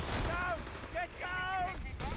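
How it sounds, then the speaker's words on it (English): Light artillery fire in Company of Heroes 3, with rising and falling incoming-shell whistles over a continuous roar of distant gunfire and explosions, repeating several times in quick succession at steady, fairly loud battle volume. "Light artillery coming in from that captain there."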